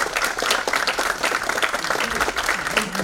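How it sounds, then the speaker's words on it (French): An audience applauds pansori performers at a lecture-concert, a loud, dense clapping that stays steady for the whole stretch with no talk over it. "Nous vous demandons d'applaudir de nouveau nos interprètes"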